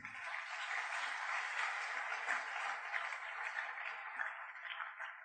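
A church congregation claps together in sustained, dense applause that holds at an even level throughout without a break.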